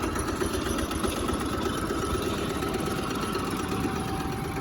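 A 4x4 ride-on lawn mower engine pulls a one-ton trailer uphill across farm field ground, giving a steady, rough mid-pitched drone with a fast knocking pulse, moderately loud and unbroken, with no talking.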